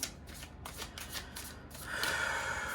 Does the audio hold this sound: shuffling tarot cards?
yes